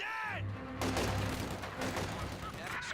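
Gunfire in Company of Heroes 2 as Commandos keep shooting while Grenadiers close in: scattered cracks and bursts with a heavy booming low rumble, heard under a speaking voice.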